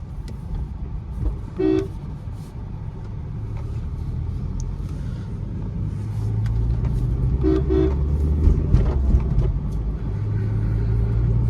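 A Maruti Suzuki Swift hums along a highway at speed with steady road rumble and engine drone, punctuated by a couple of short horn toots.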